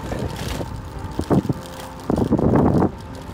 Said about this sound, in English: I was worried about the wind today